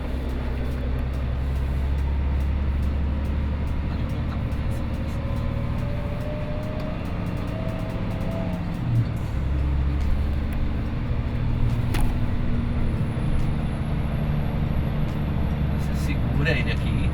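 Scania gas-powered truck engine laboring up a hill, a steady low drone that holds throughout, with people talking over it.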